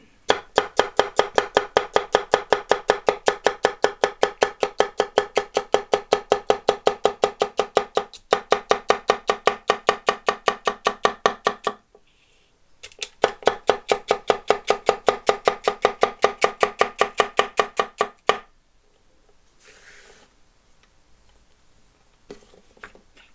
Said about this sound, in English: I'll try to do different cutting styles so you guys can see a variation of cutting techniques